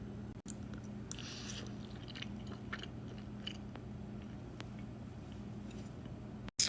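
Close, steady chewing and crunching of a seasoned snack topped with red pepper flakes and everything-bagel seasoning, soft rhythmic bites running for several seconds with no talking.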